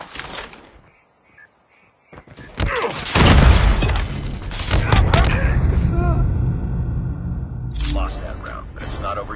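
Frag grenade explosion during a Search and Destroy round in Call of Duty Mobile, a loud close blast with rumbling debris following a short voice callout and a quiet lull.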